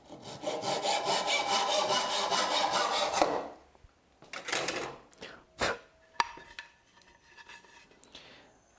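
Steady back-and-forth rasping of a Japanese hand saw cutting wood for a few seconds, then stopping, followed by scattered knocks and light handling noises.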